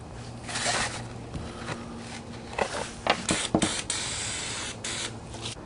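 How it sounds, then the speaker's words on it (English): Glue squirted from a tube onto a torn Camaro convertible top, heard as a close run of soft hissing spurts and sputters, with brief sharper bursts toward the middle, no talking. "So we are going to try to squirt some of this on if it will squirt."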